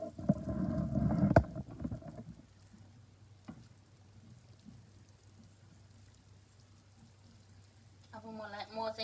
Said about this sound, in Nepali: अब म आलु तरकारी भुट्न सुरु गर्छु है त।